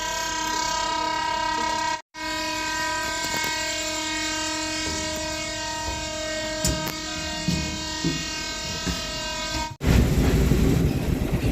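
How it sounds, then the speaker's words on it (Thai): Heard on board a Thai commuter train at Ratchaburi, a steady loud rumble and a long sustained horn tone, briefly cut off twice, then rattling wheel noise continues. "ขึ้นรถไฟแล้วค่ะ"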